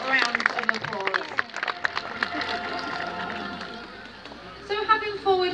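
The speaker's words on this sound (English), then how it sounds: "a really big round of applause" Audience applause for a sea lion at a zoo show in Blackpool, a burst of scattered clapping from the crowd that thins out, with a voice speaking over it near the end.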